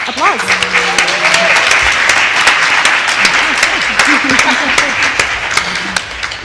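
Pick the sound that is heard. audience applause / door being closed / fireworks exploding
audience applause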